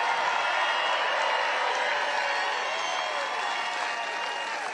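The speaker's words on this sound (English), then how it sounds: "let's have a big round of applause for the men and women of the United States Armed Forces" A large crowd applauds at a Donald Trump rally in a continuous, even wash of clapping and crowd noise that holds steady for several seconds and tapers off only slightly toward the end.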